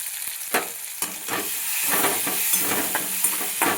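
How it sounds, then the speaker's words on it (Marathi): Onions fry with a steady sizzle in a pan for spinach masala, with repeated stirring scrapes and pops over a continuous hiss. "कांदा चांगला खरपूस तळून घ्यायचा म्हणजे पालकला एकदम छान चवीचे हॉटेलसारखं."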